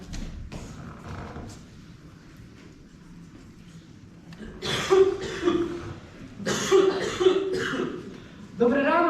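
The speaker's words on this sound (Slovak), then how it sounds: "To je hrozné s týmto mojím kašlom." Several harsh coughs and throat-clearing bursts from a person with a lingering cough during a stage comedy set in a women's hospital ward, loud and close, with a few thumps and speech-like voicing between them.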